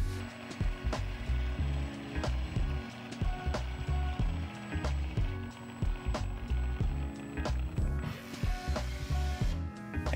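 A caulking gun loaded with Dow Corning 995 silicone is squeezed up close, giving a steady run of sharp ratcheting clicks in an even rhythm.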